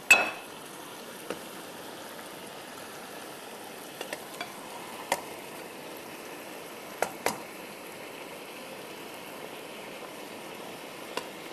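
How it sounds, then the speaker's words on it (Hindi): Marinated fish hits masala and potatoes in a kadai with an opening clatter, then a soft steady sizzle follows. Occasional light clinks of a spoon sound against the pan. "And add your marinated fish."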